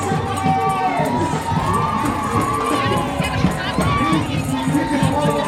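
A crowd gathered outdoors in Canada for the Olympic flame's arrival, cheering and shouting steadily with children's voices mixed in, loud and continuous throughout.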